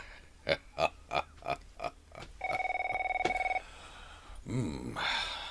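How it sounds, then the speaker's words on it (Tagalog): A telephone rings with a long electronic trill, heard after a series of rhythmic grunting sounds; more noise follows as the ringing stops. "Telepono."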